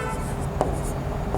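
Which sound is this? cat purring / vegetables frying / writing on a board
writing on a board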